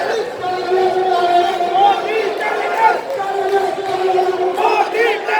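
A rally crowd chants slogans at a Pakistan Independence Day and Kashmir solidarity event in Bologna, Italy. Many voices rise and fall together in loud, uneven bursts of shouting, with a strong voice standing out near the front.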